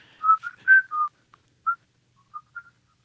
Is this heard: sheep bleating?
no